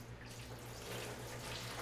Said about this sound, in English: I'm going to pour a little water in here just to see what happens.